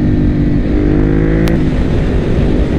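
A Ducati Monster 821 with a Testastretta engine runs close by, its loud, throaty engine note climbing in pitch as it revs, with a brief sharp click midway.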